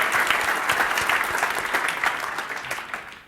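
Steady, dense audience clapping fills a conference hall, sustained and fairly loud throughout with no pause.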